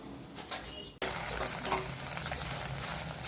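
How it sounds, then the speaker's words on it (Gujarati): Mixed chevda snack ingredients fry in oil and are moved with a spoon. A soft sizzle jumps to a fuller, steady hiss of bubbling oil after a brief pause, with faint utensil clinks. "આવી જ રીતે આપણે ચમચીની મદદથી બીજી વાર હા તળી લઈશું"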